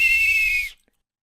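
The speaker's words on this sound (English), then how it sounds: "Let's blow our whistles to end the match" A single sustained, shrill whistle blast sounds to end a match right after a countdown, steady and loud for under a second before cutting off into silence.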